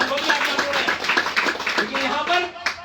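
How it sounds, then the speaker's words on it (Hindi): Crowd at a political party workers' gathering clapping in steady rapid bursts, moderately loud and close, with voices mixed in under the claps. "तालियां बजाइए"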